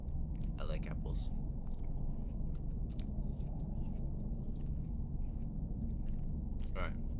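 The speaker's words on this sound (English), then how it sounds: "Sorry if you hear me chewing on apple." Close, quiet chewing of apple, a few crunchy bites scattered over a constant low hum.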